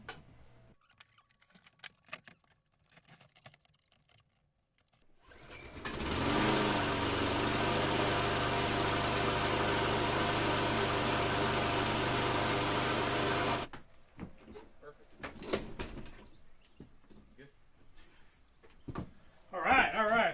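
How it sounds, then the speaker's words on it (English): A small pull-start engine fires up after a rebuild and runs at a steady, loud rattling idle for about eight seconds before cutting off, with scattered handling noises around it. "put some fuel in it, and we'll see if it starts up"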